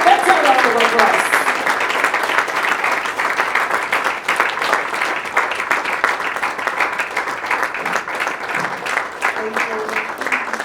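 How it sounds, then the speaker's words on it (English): At a Lagos State family health event, an audience gives a sustained round of applause: thick, continuous clapping that holds steady for about ten seconds, with voices murmuring faintly underneath. "Let's have a round of applause."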